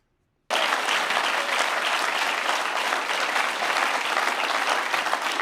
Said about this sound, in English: But everybody clapping.